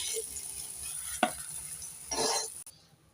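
Eggplant fries in oil in a pan with a low, continuous sizzle, punctuated by a sharp utensil clink and a burst of louder stirring and scraping near the end before it cuts off.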